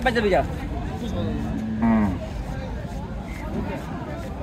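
A cow moos loudly twice at a cattle market, a long low call followed by another, amid people chatting and general crowd murmur.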